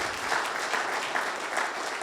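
Crowd clapping at a political rally for Brian Jack in Newnan, a thick, steady burst of applause from many hands filling the space.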